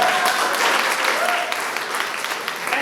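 An auditorium audience breaks into applause at a motivational talk, a continuous crowd clapping at moderate level with murmured voices underneath, thinning slightly toward the end.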